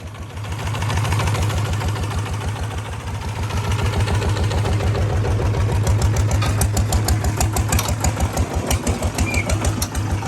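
A Thai motorcycle engine bored up from 140 to 155 cc, fitted with a racing exhaust, sits near and loud with a rapid thumping pulse that rises as it revs and holds a rough, steady throb throughout.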